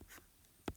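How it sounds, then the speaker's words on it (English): A crayon scratching across paper while writing a short word, with a soft brushing stroke, a quiet stretch, then a sharper close tap; faint, and nobody speaks. "With our first crayon, write trip."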